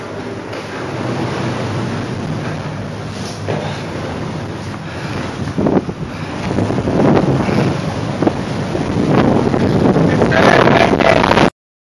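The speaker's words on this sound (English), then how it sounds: "There's a fierce Pacific storm coming in." Strong gusting wind from an incoming Pacific storm on the Oregon coast at Astoria, roaring steadily and buffeting the microphone, with louder surges in the second half and no speech over it.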